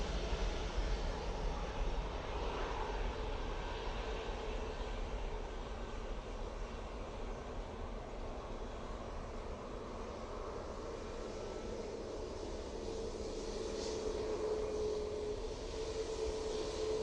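An easyJet airliner rolls for takeoff at Manchester Airport, a steady, distant broadband jet engine roar that holds evenly throughout with no voices.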